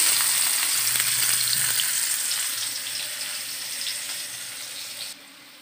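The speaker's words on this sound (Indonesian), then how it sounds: "Kita taruh bawang merah," Shallots and garlic sizzle steadily in hot oil in a wok, a bright close crackle that fades slightly toward the end, with a brief stir or clink partway through and no talking.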